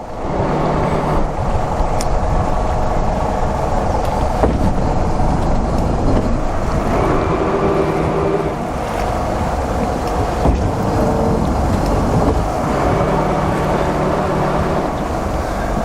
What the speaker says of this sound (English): You can hear the bow thruster operating.